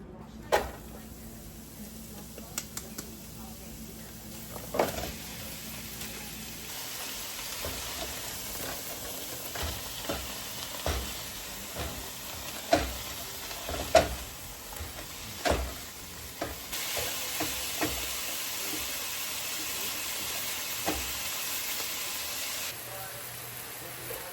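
Finely diced onion frying and being stirred in a pan, a soft sizzle and hiss broken by scattered clicks and scrapes of the spoon, fairly quiet and close.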